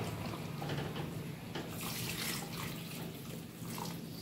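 Hot water is poured into a pot of chicken curry, giving a steady close rushing, splashing flow that runs continuously for a few seconds.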